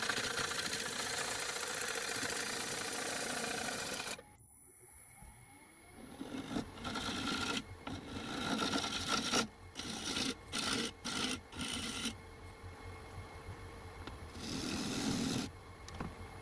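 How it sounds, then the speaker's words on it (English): An ash side-cut blank is turned on a woodturning lathe into a plate, with close, continuous scraping and rasping of the tool against the wood over a motor hum, broken by short pauses. "as the blank becomes round and the surface starts to even out, the turning becomes much smoother and easier"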